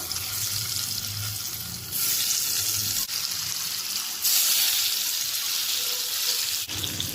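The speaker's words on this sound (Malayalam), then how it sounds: "ഇനി ഇതിലേക്ക് നമുക്ക് പനീറിൻ്റെ കഷ്ണങ്ങൾ വെച്ച് കൊടുക്കാം കേട്ടോ ഒന്ന് തിരിച്ച് മറിച്ച് വെച്ചിട്ട് ഒന്ന് ഫ്രൈ ചെയ്തെടുത്താൽ മതി" Paneer pieces frying in a pan for paneer butter masala, a steady bright sizzle that swells louder in bursts as pieces are added and turned, with a few brief clicks.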